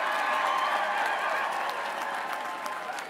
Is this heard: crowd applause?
yes